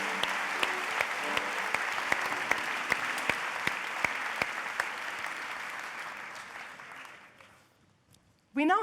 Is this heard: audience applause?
yes